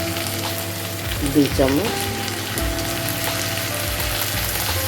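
Ginger garlic paste fries in a pan with a constant close sizzle, while someone speaks briefly over it early on.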